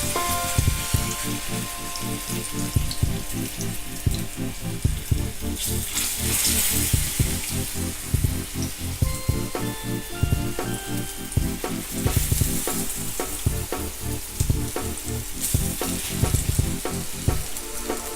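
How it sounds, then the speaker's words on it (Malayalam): Banana pieces frying in coconut oil for sweet rolls, a steady loud sizzle and crackle with occasional stirring clinks, continuous throughout. "ഇനി ഇതൊന്ന് ഫ്രൈ ചെയ്തെടുക്കുക."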